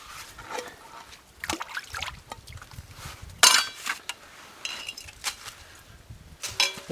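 A cloth rag scrubs a metal bushpot out in the field with sand and grit, giving soft intermittent rubbing, a few sharp clinks of metal and light splashes of water, close up and quiet.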